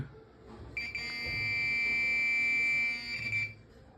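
Metal detector giving a steady continuous beep over an old two-rupee coin: a single loud, sustained electronic tone that holds for about three seconds, then stops, against quiet low background rumble.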